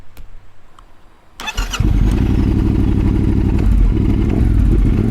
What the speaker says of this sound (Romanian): Sună într-un fel motocicleta asta.